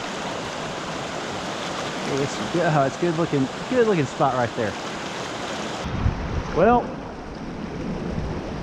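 A creek runs with a steady broadband rush of flowing water throughout, while someone talks briefly over it.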